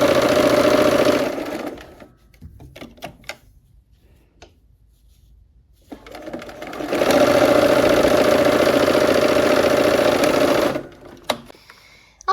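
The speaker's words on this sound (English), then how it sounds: "here we are at the machine again. And we're going to just sew these seams together." Sewing machine stitching quilt block seams for a Christmas tree block, two long steady runs of loud mechanical hum separated by a quiet pause with small handling clicks.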